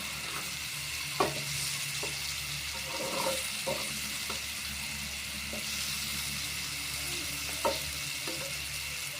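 Pieces of rohu fish fry in a pan with a constant crackling sizzle, broken by a few sharp knocks and scrapes of stirring, close and steady with no speech.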